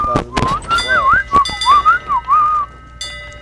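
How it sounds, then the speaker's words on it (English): A person whistles loudly in a quick warbling tune of rising and falling notes, close to the mic, mixed with sharp knocks and clinks and a brief voice. "Chris, you're whistling too loud."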